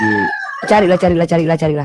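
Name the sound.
rooster crowing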